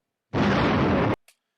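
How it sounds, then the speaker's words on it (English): A single loud, sustained blast of explosion noise lasting under a second, cutting off abruptly, followed by a brief faint crackle. "So here I've got all sorts of different explosion sounds."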